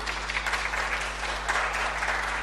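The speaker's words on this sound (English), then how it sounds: "I really wish the artist could have heard your applause" A conference audience gives a brief round of even, continuous applause over a steady low electrical hum.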